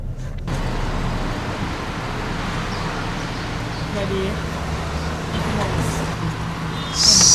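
Trucks rolling along a highway between Vientiane and Vang Vieng, a constant loud rumble of heavy traffic close by, with a sharp hiss near the end.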